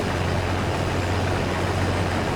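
A combine harvester with a 790 engine runs steadily in Farming Simulator 22, a New Holland-style machine: a constant low diesel drone with a broadband hum, loud and close, without pauses.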